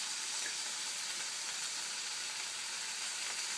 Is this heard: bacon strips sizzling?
yes